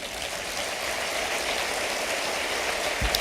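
A church congregation applauds at a communion service, a dense, steady wash of clapping that holds evenly throughout with no talk.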